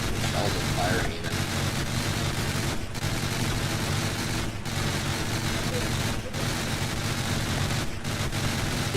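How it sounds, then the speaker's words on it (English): Guns firing shells in a vehicle-building video game, a dense, continuous roar of rapid blasts with regular heavier booms every couple of seconds, under a speaking voice. "Shells are firing even."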